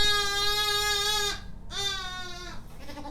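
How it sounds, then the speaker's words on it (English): Noisy lambs bleating loudly and close by at an Easter lambing event, one long wavering cry followed by another after a short break, with a fainter bleat trailing off at the end. "you're hearing me and these noisy lambs loud and clear"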